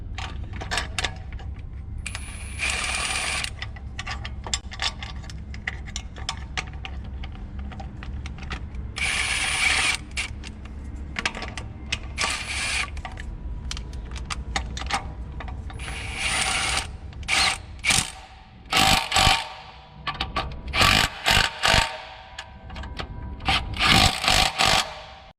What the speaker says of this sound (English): we can put the belt tensioner back on